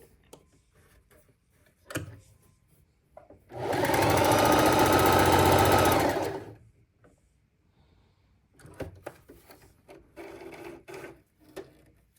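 A Singer Heavy Duty 4411 sewing machine runs a practice stitch in one loud, steady burst of about two and a half seconds, with quiet handling noises before and after.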